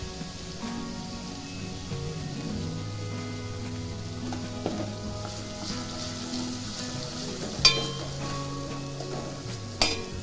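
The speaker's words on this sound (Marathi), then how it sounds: "आता हे चांगलं परतून घ्यायचं त्यामध्ये हळद आता टाकायची आहे" Green chili, cumin, garlic and ginger paste sautés in oil with turmeric in a pan, giving a steady soft sizzle and stirring with a couple of sharp clinks near the end, close by.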